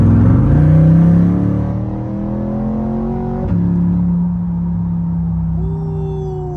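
A Chevrolet Corvette C8 under way, its engine a loud, close rumble that swells at first and then eases to a steady cruising drone with a small gear-shift step midway.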